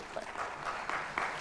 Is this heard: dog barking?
no